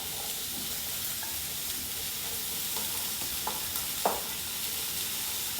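Chickpeas, drained and rinsed, land among translucent onions frying in a pan, with a soft continuous sizzle and a few faint stirring knocks, one sharper clack near the end.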